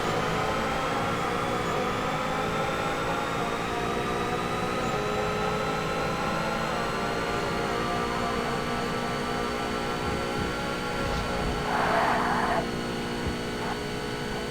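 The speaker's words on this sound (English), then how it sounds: "My car sound like an angry bee." A high-pitched Bentley race car engine in Forza Motorsport drones continuously with a slowly rising whine, held at speed, with no voices.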